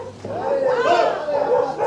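Several dogs yelp and bark excitedly while chasing cows in a mountain village, high whining barks overlapping under a voice talking.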